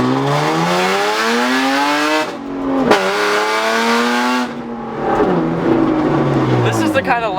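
Straight-piped BMW exhaust revving hard, loud rising and falling engine drone with sharp blips close by, with people talking over it.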